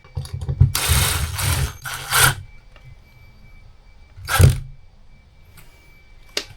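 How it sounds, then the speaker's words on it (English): A hand driver drives a screw into a kitchen end panel inside a 25-year-old motorhome, giving a few ratcheting, mechanical bursts of turning with quiet pauses between them, close by. "It's a tight fit, so I'm going to screw it with this driver."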